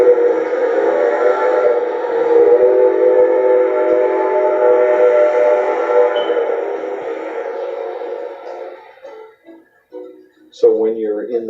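A steam locomotive whistle on a winter scenic railroad sounds in a long, loud sustained tone with layered harmonics, echoing across a valley, then breaks off into shorter blasts and reverberant tail near the end.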